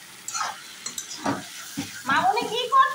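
Beef curry with spices frying in oil is stirred in a pot, with soft, intermittent scraping strokes and light sizzling in a quiet kitchen; a faint voice is heard near the end.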